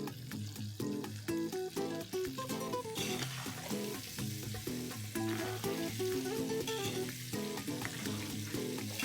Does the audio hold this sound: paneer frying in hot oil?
yes